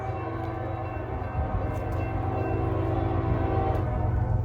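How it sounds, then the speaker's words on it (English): A CSX freight train led by an EC40 DC locomotive, street running through Tarboro, North Carolina, sounds a sustained, harmonic horn blast that swells louder as it nears, over a rumbling rail undertone. "Street running CSX EC40 DC."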